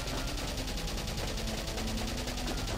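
Continuous dense gunfire from the video game Valkyria Chronicles, a steady rattling wash of rapid shots with no pauses, loud and filling the whole stretch.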